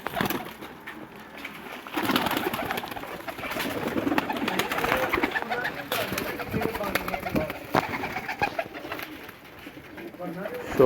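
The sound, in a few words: Sialkoti pigeons cooing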